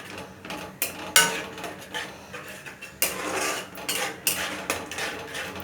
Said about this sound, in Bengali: এই যে টক দই দিয়ে দিলাম। এটা একটু কম আছে একটু নাড়াচাড়া করবো।